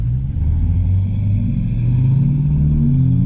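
Honda Civic Type R with muffler and resonator deleted, its exhaust droning loud and close under throttle, a deep steady rumble with a rising engine tone as revs climb, no talking.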